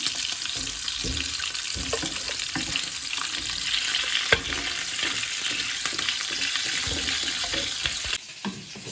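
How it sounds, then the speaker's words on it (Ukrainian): Pork ribs sizzling in a hot pan with steady crackling and hiss, some soft stirring and scraping, close up; the sound drops abruptly near the end. "Обсмажила добре реберця"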